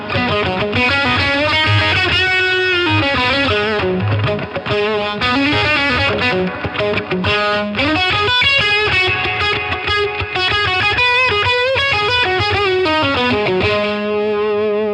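An electric guitar played through a Line 6 Catalyst amp, distorted with chorus and heavy delay feedback, plays loud sustained phrases whose repeats smear together continuously for fifteen seconds, with no talking.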